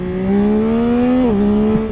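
A 2022 Yamaha XSR 900 motorcycle accelerates hard and close, its engine note climbing smoothly before a brief dip at a quick-shifted gear change, then pulling on again.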